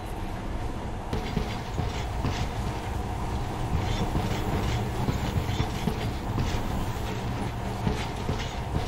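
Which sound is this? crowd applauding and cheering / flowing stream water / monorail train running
monorail train running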